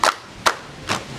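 Hands clap in a rhythmic ice-breaker game pattern with students, three sharp, separate claps spaced evenly and heard close and clear.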